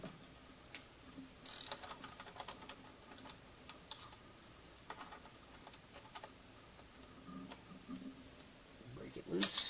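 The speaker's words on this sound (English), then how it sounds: "ratcheting wrench. We got a 9/16 wrench here. We're just going to crank that down." A 9/16 ratcheting wrench cranks down a bolt on a Holley LS/LT engine-swap accessory drive, giving bursts of quick, close, faint clicking and ticking with short pauses between strokes.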